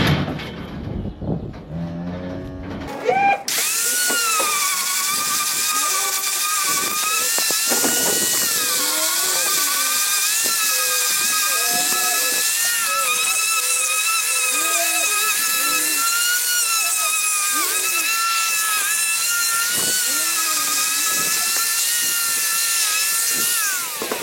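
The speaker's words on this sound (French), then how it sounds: "déjà la meuleuse ça fait déjà du taf" An angle grinder whines loud and close while trimming cow hooves, starting after a short quiet opening and then running continuously, its pitch dipping and rising as it bites into the hoof.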